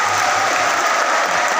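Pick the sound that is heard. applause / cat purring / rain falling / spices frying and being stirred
applause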